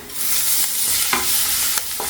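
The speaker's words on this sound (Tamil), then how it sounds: "இதையும் சேர்த்துட்டு வதக்கிக்கோங்க வதக்கிட்டு கருவேப்பிலை சேர்த்துக்கிறேன்" Spices and curry leaves sautéing in hot oil for a sambar tempering, a steady loud sizzle with stirring scrapes and a few sharper crackles and pops, no voices.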